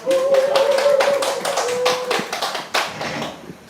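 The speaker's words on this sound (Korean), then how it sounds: "오늘 힘든 걸음 해주신 우리 김정희 선생님께 우선 힘찬 박수 함성 부탁드리겠습니다." An audience at a Korean Green Party forum on environmentally conscious elections applauds a guest speaker, with dense, steady hand clapping filling the room. A faint sustained tone runs underneath for the first half.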